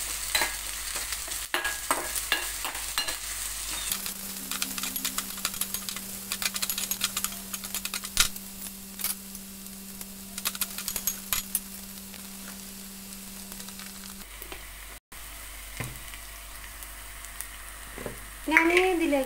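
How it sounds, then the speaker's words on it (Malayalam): Onions sauté in a pan with curry leaves for a fish curry, giving a steady close sizzle with frequent scraping stirs and clinks from the utensil, plus a faint constant hum in the background. "ഈ ഉള്ളി ഒന്ന് മൂക്കണ വരെ നമുക്ക് നമ്മൾ"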